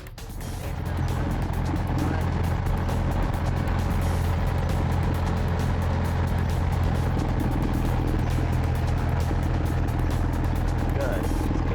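Steady engine drone of a Cessna light aircraft heard from inside the cockpit, a continuous loud low hum with strong harmonics that holds throughout, with voices talking over it.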